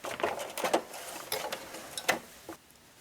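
A sewing machine back tacks a quilted placemat, giving short, close bursts of rapid stitching with brief gaps between them.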